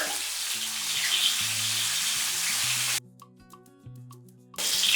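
Shallots and half a tomato sauté in a pan for a bitter gourd and field bean tamarind curry, a moderate sizzle that drops away briefly before returning, with soft background music notes.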